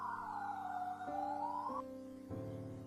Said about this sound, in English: I hear a police siren coming toward me with his car.